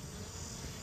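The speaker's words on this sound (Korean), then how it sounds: "이것은 말벌 포획기인데요. 여기에 이렇게 자주 들어가네요." Hornets buzz inside a hornet trap in a brief, faint, dense insect drone with no voices.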